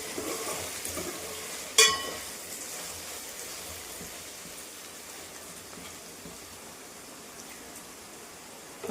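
Coarsely ground okra mixture frying in a pan: a steady soft sizzle, close by, with one brief sharp scrape or clink early on and no talking.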